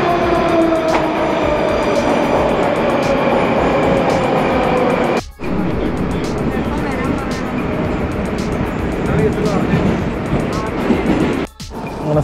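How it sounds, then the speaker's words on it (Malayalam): A Moscow Metro blue line train rumbles steadily into a station, a continuous loud roar of wheels and motor with brief dropouts, while people talk over it. "ട്രെയിൻ വരുന്നുണ്ട്."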